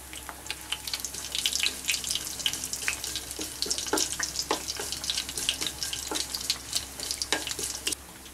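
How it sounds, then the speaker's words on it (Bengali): Black cumin seeds and dried red chilli crackle and sizzle in hot oil for kasundi potol, a dense run of sharp, irregular pops and spits close by that continues steadily, with no voices. "আমাদের তেলটা গরম হয়ে গেছে, এর মধ্যে আমি কালো জিরেটা ফোড়ন দেব।"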